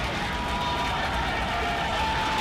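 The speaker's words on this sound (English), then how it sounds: "We hear little cheers" Spectators cheer faintly at a SpaceX Starship liftoff, a distant, thin crowd sound blended into a dense, steady roar that fills the whole stretch.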